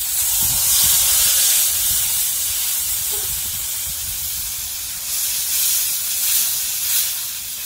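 Soaked, mashed dried green mango dropped into hot oil sizzles with a loud, steady hiss that holds for several seconds, with no voices.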